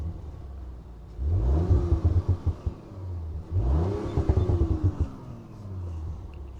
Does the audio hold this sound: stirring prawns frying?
no